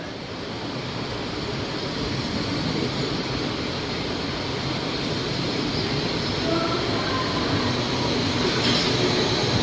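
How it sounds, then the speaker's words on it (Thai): An electric Pink Line monorail train pulls into a station, a loud, steady rolling rumble and whir with a faint squeal near the end, heard close up from on board without speech. "ขบวนรถก็เข้าสู่สถานีพอดีนะฮะ"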